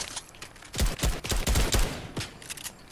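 Gunfire in a Fortnite match: a quiet lead-in, then a cluster of loud, close shots with heavy low punches, followed by a few fainter scattered cracks as it settles.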